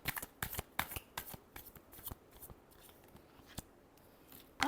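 Tarot cards shuffled by hand in a close series of crisp riffling bursts and slaps, busy at first and then sparser with pauses, ending in a louder flutter, no talk.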